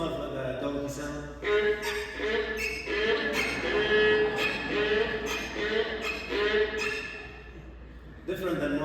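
A voice mimics a train, chugging and hooting in rhythmic bursts with rising whistle-like tones, close and alone.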